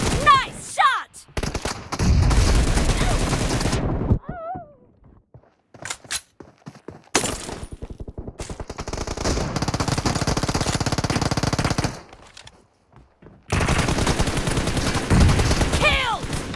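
In an arena team match in a video game, bursts of rapid gunfire come in loud, close volleys separated by brief quiet gaps, with short game voice lines between them.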